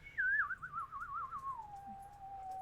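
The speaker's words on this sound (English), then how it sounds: "Do you hear me whistling?" A person whistles a single fluttering tone alone: a trilled, wavering note that slides gradually downward and fades into a steady lower pitch, faint and fairly close against a quiet room.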